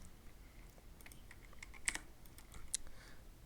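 Soft keystrokes on a computer keyboard, a few quick faint taps scattered over several seconds against quiet background hiss, no talking.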